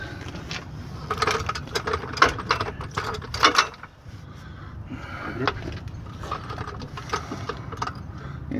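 A jack raises a convertible PT Cruiser from under the rear cross member for a brake job. Close, uneven mechanical clicking and ratcheting continues throughout, with clattering knocks.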